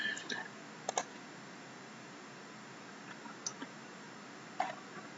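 A computer mouse clicks while working in Mastercam CAD software, a few faint, sparse single clicks spread over several seconds against a quiet, hissy background.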